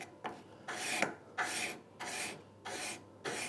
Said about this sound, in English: we just file through file from here like this until we've got that bevel where we want it